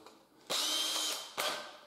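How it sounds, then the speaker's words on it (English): A 2 mm pilot drill boring small holes for the screws of a tubular mortice latch and keep, two short loud whirring bursts of the power tool, close up with no talk. "it's only a 2 mil the pilot drill here, I'll just put a little pilot in there."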